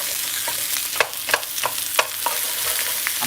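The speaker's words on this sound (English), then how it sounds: "put my broccoli in there. And then just kind of stir this around." Broccoli stir-frying on an at-home hibachi grill, a steady sizzle broken by several sharp scrapes and clacks of a spatula at irregular intervals, close and fairly loud, with no talking.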